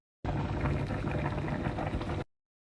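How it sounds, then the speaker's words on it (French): Potatoes boiling in a pot on a home stove: a steady, close bubbling and gurgling of water that starts abruptly, runs for about two seconds and cuts off, with no voices. "je suis en train de faire bouillir mes pommes de terre"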